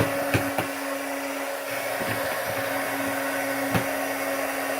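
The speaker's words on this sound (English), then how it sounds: "Get this heat gun going for a second." A heat gun is running over poured acrylic paint with a steady, fairly loud whirring blow and a constant hum, and a few faint clicks and taps come through.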